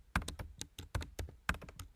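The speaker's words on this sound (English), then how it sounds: "there goes my typing" Typing on a computer keyboard while coding in Sonic Pi: a quick, uneven run of sharp, close key taps, about a dozen strokes, alone with no talk.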